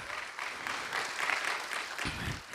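Church congregation giving an applause of gratitude during a sermon, a moderate, fairly distant wash of clapping that swells slightly in the middle and continues throughout.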